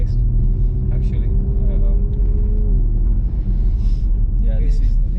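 A BMW X3M rolling over a bumpy road, with a deep continuous cabin rumble and steady engine drone, while people talk over it.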